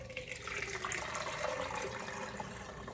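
Turkey drippings poured into a fat separator through its top screen, a close, steady liquid stream splashing and gurgling without a break.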